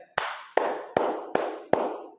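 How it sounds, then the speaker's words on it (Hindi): Five sharp hand claps in a slow, steady rhythm, each with a short ringing tail, close and fairly loud with no talk over them. "ताली बजाना चाहिए।"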